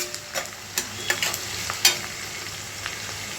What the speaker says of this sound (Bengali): পেঁয়াজটা ভাজতে ভাজতে একটু নুন দিয়ে দিয়েছি, তাহলে পেঁয়াজটা তাড়াতাড়ি নরম হয়ে যাবে